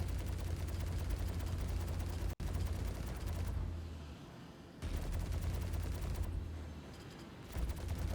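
Star Citizen Hammerhead ship gunners unleash a dense, sustained barrage of gunfire, loud and continuous, with a couple of brief lulls where the roar thins before resuming.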